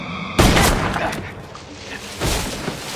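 Gunfire in a Smallville episode: two sharp, loud bursts about two seconds apart, each with a booming, echoing tail.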